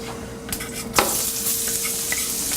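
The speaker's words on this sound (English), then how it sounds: "we're going to throw in the shallots" Shallots tossed into a hot skillet where mushrooms are about to join them, a sharp clatter at the toss followed by a steady bright sizzle, close and alone.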